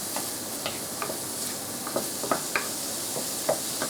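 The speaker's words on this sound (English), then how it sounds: "In go the onions. Medium to high heat. Fry these up first." Chopped onions frying in a pan over medium-high heat for homemade chili: a steady soft sizzle with scattered light ticks and pops from stirring, heard close and alone.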